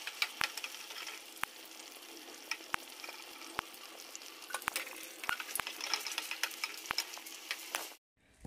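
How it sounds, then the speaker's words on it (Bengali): Malpua batter made with whole milk frying in hot oil, a steady crackling sizzle with scattered sharp pops and spatters, continuous and close until it cuts off near the end. "আমি ভেজে নিই"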